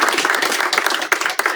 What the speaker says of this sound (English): Please give another round of applause